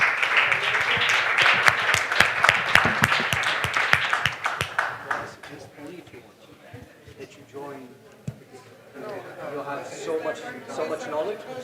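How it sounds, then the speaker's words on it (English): Audience applause for conference panelists, loud and dense clapping for about four seconds before fading into scattered claps and people talking in the room. "give the panelists an applause"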